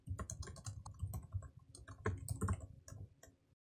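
Typing on a computer keyboard at a Linux command line, a quick run of close, crisp key clicks over a few seconds, stopping abruptly.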